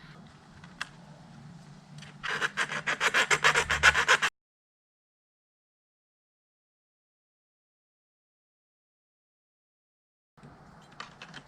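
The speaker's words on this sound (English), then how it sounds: "This wire right here is all sorts of scuffed up now." Abrasive scuffing of the wire on a brand-new buzzbait at the points where the blade makes contact, heard as a short burst of dense, rapid rasping strokes up close, then silence, with faint handling noise before and after.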